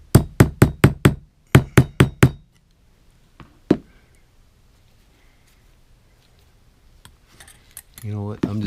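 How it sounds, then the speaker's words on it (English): A hammer taps on the beveled side of an old scout knife being restored, delivering a quick run of about nine sharp metallic strikes in two bursts, then a couple of isolated taps, followed by faint handling noise and a brief voice. "Maybe I can reveal it more by trying to tap it on the beveled side."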